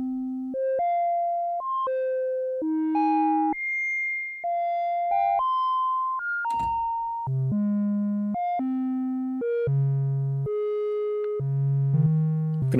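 A Moog Matriarch synthesizer plays a stepped sequence of clean sustained tones, its rate modulated by a sine-wave LFO so note lengths stretch and shrink, loud and alone with one brief noisy burst midway.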